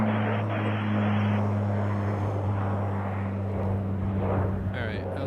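Dash 8 turboprop airliner taking off from Toronto Pearson, its steady propeller drone and engine hum loud and continuous throughout with a strong low tonal whine, and radio voices faintly under it.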